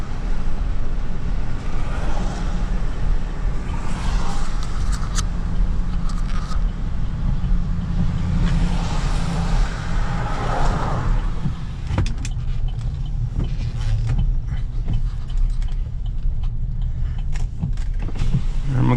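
A Chevrolet Silverado Z71 LT with a 5.3 liter Vortec engine rolls along with its power windows lowered, giving a loud steady rumble of road and wind noise with sporadic clicks and faint traffic.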